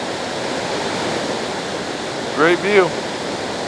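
Steady broadband roar of the flooding Merced River near Yosemite's west gate and El Portal, heard continuously at a moderate distance, with a short burst of someone talking near the end.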